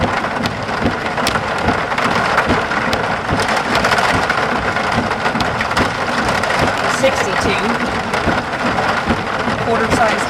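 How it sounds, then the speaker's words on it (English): Quarter-size hail during a severe Oklahoma storm, a loud, dense, continuous clatter and hiss of hailstones and rain pelting surfaces, heard close throughout. "Quarter-size hail."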